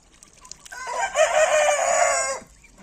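A rooster crows loudly in one long drawn-out call, with Marans hens clucking softly before and after it on a farm in the morning.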